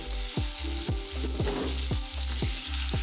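Kohlrabi and mango sautéing over low flame in a wok, a steady broadband sizzle with repeated scraping strokes of a spatula roughly every half second.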